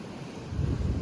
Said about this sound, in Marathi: कसले मोठे मोठे लाटा येत आहेत भाई